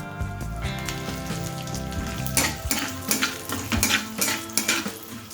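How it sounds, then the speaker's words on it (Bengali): Split urad dal tipped into hot oil with popping mustard seeds, a dense crackling sizzle with sharp pops and metal-on-pan scraping as it is stirred, close and loud, no voices. "সর্ষে যখন চটর পটর করে ফাটতে শুরু করে দেবে ঠিক সেই সময় এখানে ভাঙা বিউলির ডালটা অ্যাড করে দিচ্ছি"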